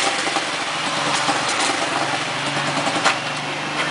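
A rented ATV engine idles on Isla Ometepe, a steady, fairly loud mechanical hum with a light buzzing texture and no talk.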